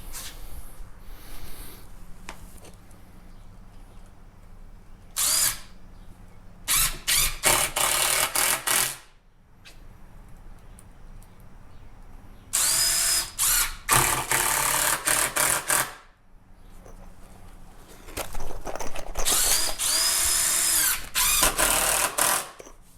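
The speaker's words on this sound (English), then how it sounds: "put a few screws in on this last little bit" A power drill drives screws into a wooden handrail in three loud, close bursts of whirring, each several seconds long, separated by quieter pauses of background hum.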